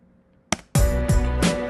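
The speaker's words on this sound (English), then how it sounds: "Now altogether the beat is this." A Fuego montuno beat plays in full after a short lead-in: punchy drum hits and bass land in a syncopated rhythm over a sustained tonal layer, loud and close.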